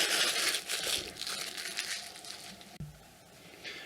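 Packaging on a box of Topps Star Wars Holocron series collector cards crinkles and crackles close up during unboxing, in a quick run of crumpling bursts with a short sharp snap near the end.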